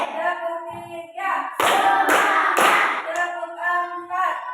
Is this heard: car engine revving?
no